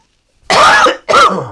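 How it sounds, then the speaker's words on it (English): Two harsh coughs in quick succession, the first longer and the second shorter, loud and close with silence before them. "I'm gonna cough again."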